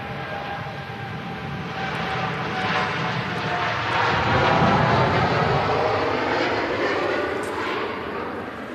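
An airliner taxiing at Manchester Airport, a steady jet engine roar swelling slightly and then easing, heard from a distance with faint background noise.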